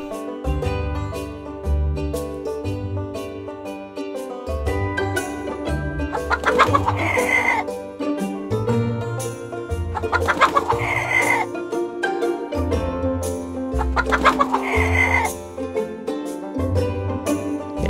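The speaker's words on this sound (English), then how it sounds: "Follow the chicken!" Chickens cluck repeatedly in short bursts, with a few louder squawking calls rising in waves, close by and without any talking.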